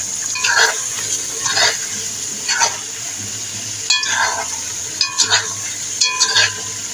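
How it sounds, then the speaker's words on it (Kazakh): Carrots frying with mutton in a pan for a Kazakh mutton and potato dish: a steady sizzle under repeated bursts of stirring and scraping, close and fairly loud, with no talking. "Морковын салып, оны да 1-2 минуттай қуырып аламыз."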